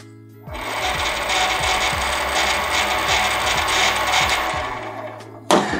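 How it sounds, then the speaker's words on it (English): A Bafang BBSHD e-bike mid-drive motor runs loudly under pedal assist with its main nylon gear not yet fully greased, giving a steady close mechanical whir and gear grind that stops abruptly before a short final clunk. "But the motor is working now. It's a little bit loud because I still got to finish greasing up the main gear in here."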